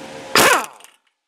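Power tool zipping a bolt off the tie rod end of a 1998 Toyota Camry, one short loud whirring burst of under a second that cuts off abruptly into silence.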